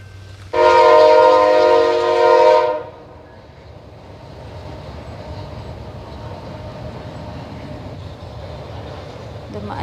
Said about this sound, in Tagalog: Dumaan yung CP train.